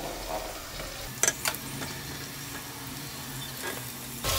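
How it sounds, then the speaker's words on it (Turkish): Diced potatoes and carrots going into a hot frying pan with oil and red pepper flakes, giving a quiet steady sizzle with a few brief clatters as they are added and stirred. "küp küp doğradığım patateslerimi ve havuçlarımı ilave ediyorum."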